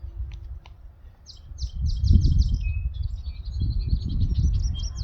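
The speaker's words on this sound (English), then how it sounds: "it's nice to sit here kind of in the shade and hear the birds" Birds chirp in quick repeated bursts in the distance in a garden, with rustling and low outdoor noise underneath.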